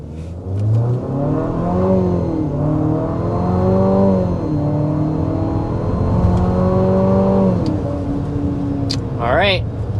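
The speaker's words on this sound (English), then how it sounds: "we need to go ahead and start with a hard acceleration" Hard acceleration in a 2026 Infiniti QX60 Sport, heard from inside the cabin: a steady, loud engine note climbs through several gear shifts, with a brief voice near the end.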